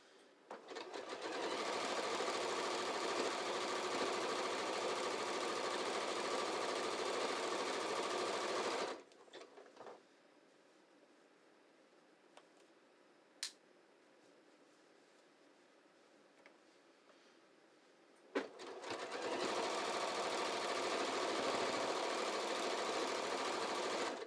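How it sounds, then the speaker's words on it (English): A sewing machine runs at a steady, even speed while it takes in the fabric of pull-on pants. It hums continuously, pauses for a quiet stretch with a couple of small clicks, then starts again and carries on at the same pace. "I'm just sewing at a nice consistent speed"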